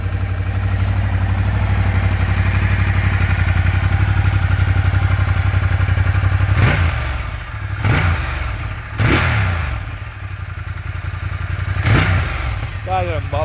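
A Ducati 1200 S motorcycle fitted with a muffler, idling with a steady low rumble, then a few sharp throttle blips that rise and fall, heard near with people talking.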